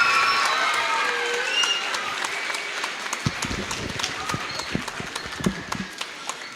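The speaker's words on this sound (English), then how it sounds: "let's go ahead and give a big round of applause to our student speakers" An audience applauds student speakers at a school event in Lawrenceville, Georgia, with steady clapping from a room of people and a few sharper, closer claps standing out.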